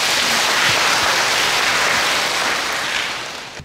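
Applause from an audience at a Buddhist dharma talk, a dense sustained wash of many hands clapping that holds steady before gradually tapering off near the end.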